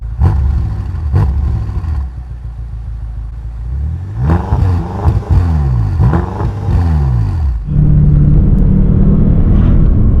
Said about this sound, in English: The S63 engine is not only a beautiful sight to behold, it makes such sweet music.